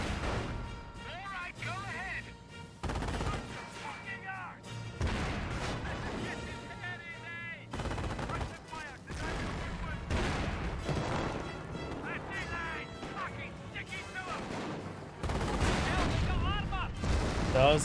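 Artillery barrage explosions in the Company of Heroes 1 real-time strategy game, Panzer Elite against British: repeated heavy booms and bursts of gunfire throughout, set under steady spoken commentary.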